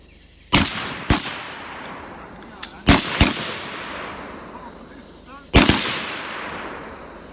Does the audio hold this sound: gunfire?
yes